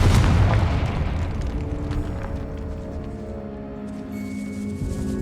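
A Confringo fire spell blasts in the Hogwarts Legacy video game, a loud deep boom at the start that rumbles and fades into a lingering low roar with faint tonal ringing.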